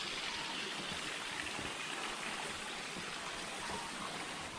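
Water flowing steadily in a stream at Barunei Hill in Khordha, a continuous broadband rushing that stays even and fairly close throughout, with no voices.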